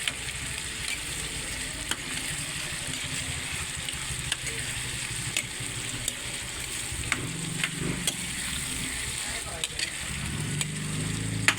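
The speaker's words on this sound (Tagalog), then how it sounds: "Atin po uling haluin." Pork caldereta stirred in a pan with tomato sauce, steady sizzling and frying with occasional sharp clicks of the utensil against the pan, a voice talking over it at times.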